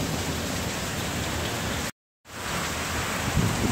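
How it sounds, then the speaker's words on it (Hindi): Heavy stormy rain pours down in Lahore before dawn, a dense, loud steady roar of rainfall with deep rumbling mixed in, broken by a brief sudden dropout before the downpour resumes. "बारिश तूफानी बारिश हो रही है इस टाइम लाहौर के अंदर।"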